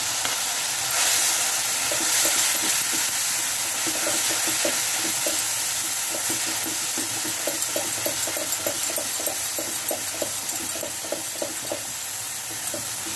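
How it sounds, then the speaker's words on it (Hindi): Cream (malai) fries in a pan of spiced jackfruit curry, a steady loud sizzle and hiss with rhythmic stirring taps of a spoon running through it. "मलाई को भून लीजिए"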